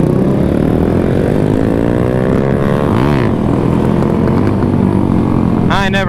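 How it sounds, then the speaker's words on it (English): A motorcycle does a burnout at the EastCoastin' 2021 meet, boiling its rear tire. A loud, sustained engine roar near at hand holds and sweeps in pitch, with voices around it. "I never had a bike that would just like boil tire like that"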